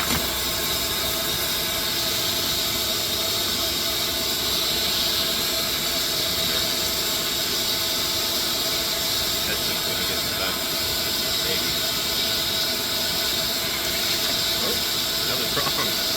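A cordless Ryobi 6-gallon wet/dry shop vac runs steadily throughout, a loud, even motor roar with broad airy hiss that never lets up, with faint rattles of sucked-up debris such as pine needles, twigs and gravel.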